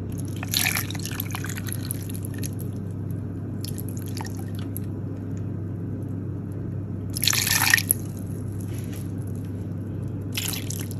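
Distilled water is poured for soap making in short, thin trickles and drips, with two brief bursts of splashing against a quiet, humming background.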